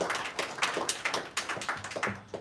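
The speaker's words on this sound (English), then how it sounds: "Can we have a round of applause for our corporate sponsors for the year?" An audience at a live event applauds corporate sponsors with a brief, dense burst of clapping, near and fairly loud, steady throughout with no voices over it.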